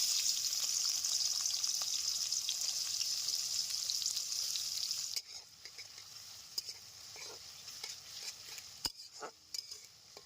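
Chopped onion hits hot oil in a pan: a loud, steady frying hiss fills the first half, then drops to a quieter crackle with scattered sharp pops and utensil clicks.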